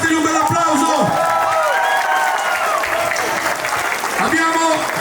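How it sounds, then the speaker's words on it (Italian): Audience applause and some cheering for the sound crew at an outdoor concert, a loud, dense crowd of clapping that runs the whole time, with a voice talking over it through a PA. "ringrazio di cuore i ragazzi del service, fategli un bel applauso."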